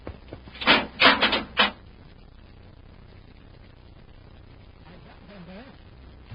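Airlock door on a spaceship in an old-time radio adventure, heard as a burst of three or four heavy mechanical thuds and clanks up close, then a low hum with faint muffled voices afterward.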